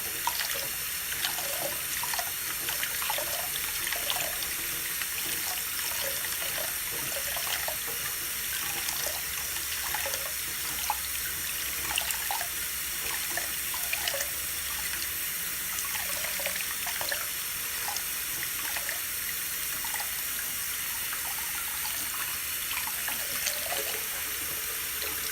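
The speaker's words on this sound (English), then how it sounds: "And we'll just rinse it out." Running tap water pours steadily into a sink while a detailing pad cleaner is rinsed out of a polishing pad. The hiss is continuous and close, with light splashes and no talking.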